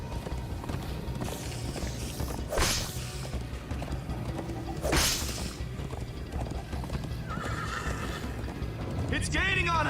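Horses in the Minecraft Story Mode video game whinny loudly twice over steady galloping hoofbeats and game music, with characters talking throughout and a whooshing swish near the end.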